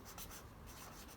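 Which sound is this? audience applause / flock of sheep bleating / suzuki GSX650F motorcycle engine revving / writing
writing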